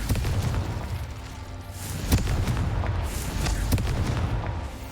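A Confringo explosive spell in Hogwarts Legacy sets off a series of blasts: sharp, booming bursts land roughly once a second over a rumbling, noisy background, with no one talking.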